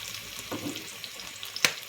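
Food sizzles faintly in a hot pan with a soft hiss and a small clink near the end.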